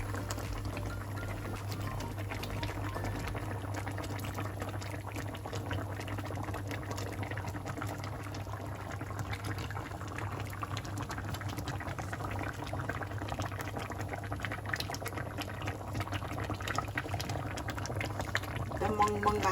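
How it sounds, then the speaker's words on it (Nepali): Mustard fish curry bubbles steadily in a pot, a continuous dense simmering hiss and gurgle at close range throughout, slightly louder toward the end, with talking heard over it. "अब यो बगबग उम्लिएर आयो, राम्रोसँगले पाकेर आएको छ।"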